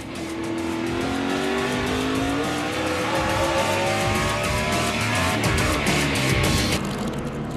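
NASCAR stock cars race at Martinsville in the 2013 STP Gas Booster 500, a loud, continuous engine roar with rising and falling pitch as cars pass, dense and layered.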